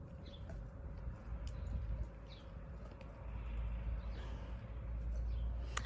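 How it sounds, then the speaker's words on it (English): Faint, scattered bird chirps sound in the distance over a quiet, low outdoor rumble. "There's a lot of birds out today too, so you probably hear a lot of birdies."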